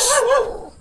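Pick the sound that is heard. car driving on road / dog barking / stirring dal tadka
dog barking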